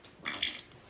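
A parrot imitates a human burp with a single short, close, throaty vocal burst.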